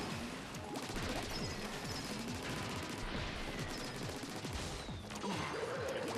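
Dense, rapid splattering gunfire and crashing impacts from a boss fight in the Splatoon video game pour out loud and continuous, with sharp hits layered over a busy game soundtrack.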